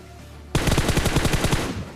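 Rapid automatic gunfire from a PUBG match on the Erangel map erupts suddenly after a brief quiet moment, then continues as a loud, dense burst of closely spaced shots.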